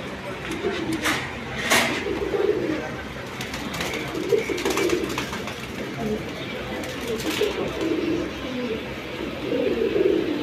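Caged Bagha pigeons for sale give soft, low coos that come and go in the background while someone talks throughout.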